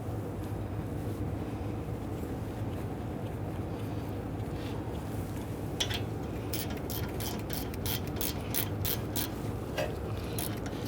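Ratchet wrench clicking as wheel hub bolts are started on a 2010-2019 Ford Taurus during wheel bearing replacement, a run of quick ratcheting clicks in the second half over a steady low workshop hum.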